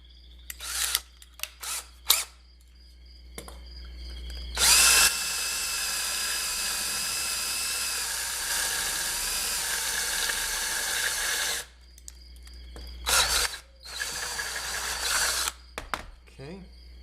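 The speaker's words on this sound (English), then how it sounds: "Now we'll chuck in the unibit." A unibit step drill bit cuts a hole in a small metal pedal board enclosure, a steady high whine lasting about seven seconds and framed by shorter bursts of drilling, close by with no talking.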